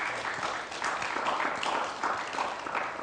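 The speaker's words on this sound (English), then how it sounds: "A round of applause for our doctors." Steady applause from an audience at a heart health talk, clapping in honor of the doctors, a dense and continuous patter of many hands with no voices over it.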